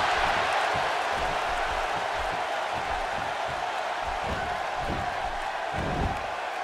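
Arena crowd noise from the wrestling video game WWE 2K16 during a SmackDown match, a broad, steady roar of a large audience with scattered thumps and cheers, continuous and moderately loud.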